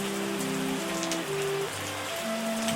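Steady rain falling across the landscape in the Terroir wine-making tycoon simulator, a continuous even patter over soft layered game music tones, with no talking.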